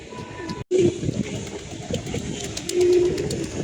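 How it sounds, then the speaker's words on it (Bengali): Pigeons at a loft coo in low, throaty phrases that swell and fade over steady outdoor background noise, with a brief dropout partway through and a louder coo near the end. "এখন কবুতরগুলা রেস্টে আছে"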